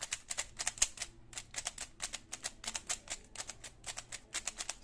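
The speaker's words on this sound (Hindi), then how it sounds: "तो यह है क्यूब लेलो ड्रिफ्ट 3M की आवाज।" A Cubelelo Drift 3M magnetic speed cube being turned quickly, giving rapid, crisp plastic clicks in uneven bursts with a brief pause, close and fairly quiet, with no speech.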